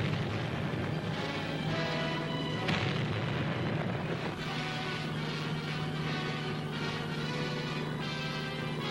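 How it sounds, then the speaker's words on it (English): Aerial bombs burst around the obsolete battleships New Jersey and Virginia in a bombing test off the Virginia Capes, heard as a dense, continuous rumble with heavy booms, alone without talk. "The Virginia succumbs to the aerial bombardment."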